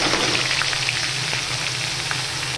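Grated onion dropped into reused hot cooking oil, giving a loud, steady sizzle and crackle that runs unbroken from start to finish with no voices.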